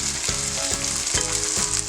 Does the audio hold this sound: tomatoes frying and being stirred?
yes